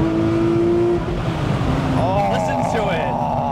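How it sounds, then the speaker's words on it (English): A modern Porsche sports car at a cars and coffee meet with its loud exhaust mode on, a strong steady engine roar that rises in pitch partway through, with voices faintly underneath. "Now loud exhaust is on."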